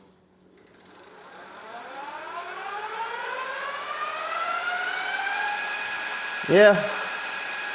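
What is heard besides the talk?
electric off-road bicycle motor free spinning in sport mode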